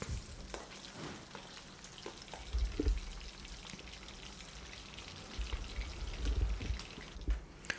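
Catfish pieces frying in hot oil in a wok, a steady dense crackling sizzle with occasional louder pops and bubbling bursts throughout.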